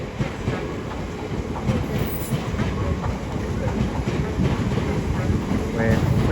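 A coupled pair of Class 350 electric multiple units, 350-105 leading and 350-122 at the rear, moves through London Euston on the West Coast Main Line with a steady, close rumble and rhythmic wheel clatter that builds slightly toward the end.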